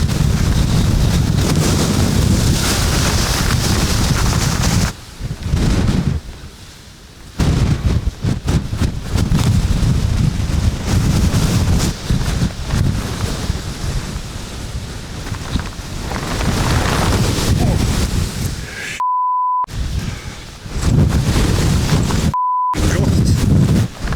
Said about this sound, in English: because this wind, it's not so bad here where I am